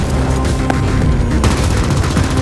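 Explosions and gunfire in the sci-fi shooter game The Ascent, a dense, loud barrage of booming blasts and rapid shots with a sharp burst midway through, filling the whole moment.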